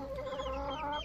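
Turkish İspenç hen clucking softly, a short run of low, close calls with no other sounds.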